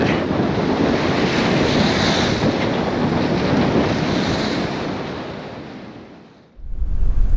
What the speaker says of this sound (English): we're trying to hide from the waves in the cockpit